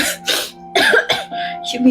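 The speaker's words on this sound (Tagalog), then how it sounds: "Naku, inuubo po kayo." A few harsh, close coughs in quick succession, with a throaty, raspy quality and short gaps between them.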